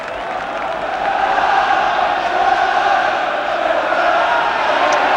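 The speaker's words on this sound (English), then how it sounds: "And now the crowd getting ready for all systems go towards the FA Cup semi-finals." Football crowd at a West Ham United v Aston Villa FA Cup quarter-final, a dense continuous roar of chanting and cheering from a packed stadium, steady and loud throughout.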